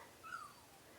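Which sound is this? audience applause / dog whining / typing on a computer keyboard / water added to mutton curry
dog whining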